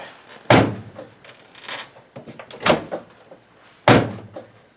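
A front-loading LG or Kenmore washing machine door swings shut three times, each a loud, close thunk with a short rattle, separated by quiet pauses.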